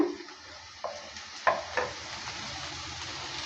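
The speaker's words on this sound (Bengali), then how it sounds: "আলুটা দেওয়ার পর ভালো করে আবারও নেড়ে চেড়ে নিচ্ছে" Chopped potatoes being stirred into frying onions in a pan, a faint steady sizzle with a few soft scraping stirs and clinks near the start, fairly quiet throughout.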